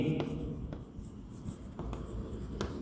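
Marker or chalk writing on a board during an accountancy lesson, with short scratchy strokes at intervals under a steady room hum.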